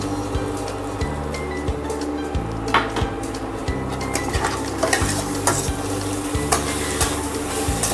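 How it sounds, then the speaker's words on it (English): Chicken livers and gizzards frying in a pan over a low flame, a steady sizzle under repeated scraping and stirring strokes of a utensil against the pan, with occasional light clinks. "Finally, livers and gizzards is fried."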